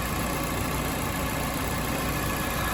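A 2016 Nissan Versa SV engine idling, a steady, even drone with a constant hum, close and unbroken throughout.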